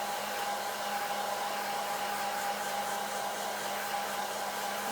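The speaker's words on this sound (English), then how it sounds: "I'm just blow dry it for a couple minutes" A hair dryer on low speed blows steadily over a freshly painted rock, making a continuous close whooshing hum with a faint tonal whine, unbroken for the whole stretch with no talking.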